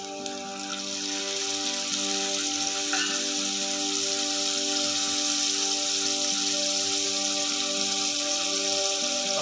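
Onion and garlic sizzle in hot oil in a pan for cauliflower 65, a steady close crackling fry with a faint stir partway through, no talk.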